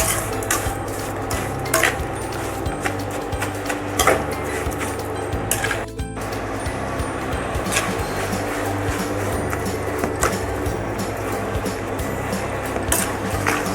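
Sorrel flower (gongura) jam cooking on a low flame, a continuous gentle bubbling hiss with frequent spoon scrapes and taps against the pot, close by and without talk.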